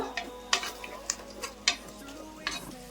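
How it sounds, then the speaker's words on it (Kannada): A ground paste of ginger, garlic, green chili and coriander fried in a pot for mushroom pulao, with a faint sizzle under repeated clinks and scrapes of a spoon against the metal, roughly every half second. "ಇದನ್ನ ಹಸಿ ವಾಸನೆ ಹೋಗೋವರೆಗೂ ಫ್ರೈ ಮಾಡ್ಕೋಬೇಕು"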